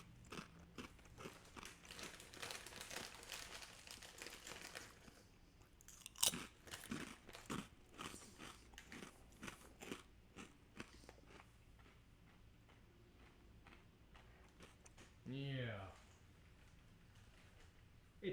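Someone eats crunchy soy sauce flavored Japanese crackers from a snack box, with quiet, close, repeated crunching and chewing bites and a louder crackle near the end.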